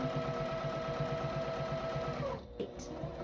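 A sewing machine runs fast, stitching the seam of a makeup bag with a rapid, even whir up close, then stops abruptly near the end with a faint click.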